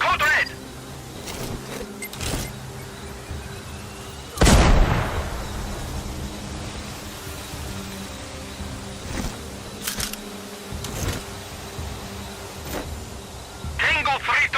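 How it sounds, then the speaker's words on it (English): Explosions and gunfire ring out in the Sniper Ghost Warrior Contracts 2 video game: one heavy close blast stands out among scattered sharp shots and pops, with radio-style voices talking over the combat. "I heard an explosion"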